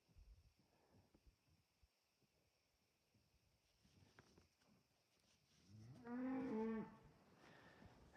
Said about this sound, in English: we've got a little group of cows going this morning